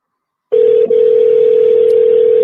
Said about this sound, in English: Can you guys hear that? Can you hear it ringing?